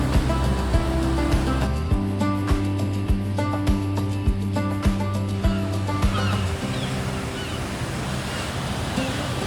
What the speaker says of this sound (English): Look at the waves rushing through the arch beneath me.